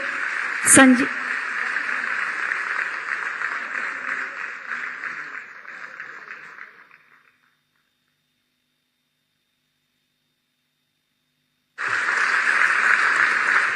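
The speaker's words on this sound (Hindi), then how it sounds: "जोरदार तालियां होनी चाहिए।" Audience applause in a convention hall at an awards ceremony for a Bharatanatyam dance group, steady dense clapping that fades out, a long silence, then a fresh burst of clapping starts again.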